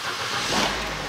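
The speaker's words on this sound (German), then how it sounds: "aufgepasst, ich starte den Motor" An Opel Corsa engine cranks and fires up during an oil pressure switch replacement, a steady close broadband engine rush swelling midway and settling into a low idle rumble over about a second, with no talk.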